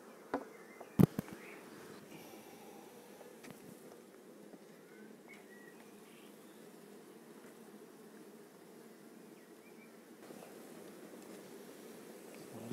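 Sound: honeybees buzzing at an open beehive

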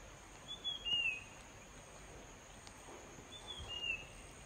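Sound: birds calling in forest among rubber tree roots

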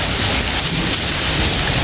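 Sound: heavy rain with thunder at a pagoda

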